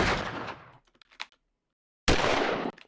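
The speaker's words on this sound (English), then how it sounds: "this is basically the same gunshot as this. It's just louder and it has more stuff added." Gunshot sound effects playing back in a Pro Tools mix: two loud, dense bursts of gunfire separated by a near-silent gap, the first decaying with a few sharp crackles, the second cut off abruptly.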